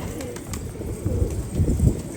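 Several pigeons coo softly and continuously, low throaty rolling calls overlapping close by, with faint background noise.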